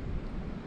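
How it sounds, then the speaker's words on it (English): Wind gusts against a microphone outdoors near sand dunes, a brief rough low buffeting roar at steady loudness, with no talking. "It is a little windy today"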